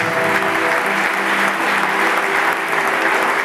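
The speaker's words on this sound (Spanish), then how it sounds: "Así que dele un fuerte aplauso, hermano, a nuestro hermano Luis." Church congregation breaking into loud, sustained applause, a dense steady wash of clapping from many hands filling the room without pause.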